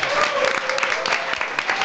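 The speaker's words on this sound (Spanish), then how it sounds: "Lo que sí que entra ahora es este fuerte aplauso con el que te despedimos." A studio audience claps loudly to close a Spanish news comedy show, a brief burst of dense applause with a soft voice or tone running underneath.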